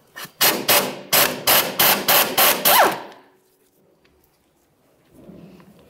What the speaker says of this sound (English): and then we'll remove the 14 millimeter nut.